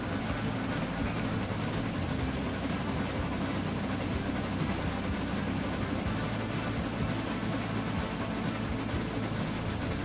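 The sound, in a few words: commuter train passing in Transport Fever video game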